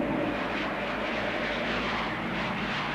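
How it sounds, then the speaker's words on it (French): A propeller airplane drones steadily in a film scene of a landing, a continuous moderately loud engine rumble with no clear change in pitch throughout. "L'avion 417 a atterri."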